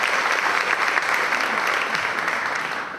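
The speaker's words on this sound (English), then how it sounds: "Let's give them a round of applause for question number 2." A steady round of clapping from a crowd, fairly loud and continuous, fading slightly toward the end.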